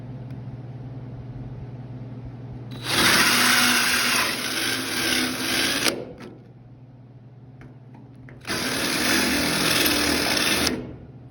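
A drill spot-faces a plug weld hole in steel, whirring loudly in two bursts of about three and two seconds with a quieter pause between them, alone without talk.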